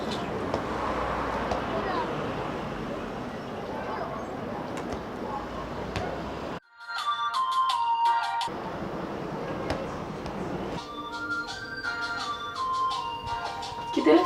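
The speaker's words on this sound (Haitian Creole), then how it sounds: "Qui téléphone a sonné là?" A mobile phone ringtone plays as a repeating electronic melody, moderately loud, after a stretch of noisy background chatter, with a short silent gap before the tone begins and the chatter returning between phrases.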